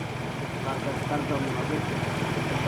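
A boat's unsilenced motor runs steadily while carrying schoolchildren home at sunset, a constant loud low drone and rumble with no pauses throughout.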